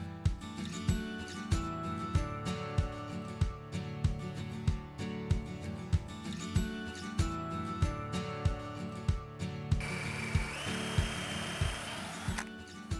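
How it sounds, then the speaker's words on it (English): A power drill with a brad point bit and stop collar whirs in short repeated bursts with a steady rhythm, drilling dowel holes for a chair, up close, then a higher-pitched grinding whine near the end. "drill them using a special brad point drill bit with a stop collar"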